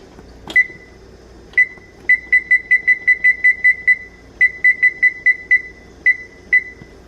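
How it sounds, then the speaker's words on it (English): A kitchen timer beeps in quick repeated electronic chirps, a couple of single beeps and then long rapid runs, clear and close in a quiet room. "Then we're gonna set the timer."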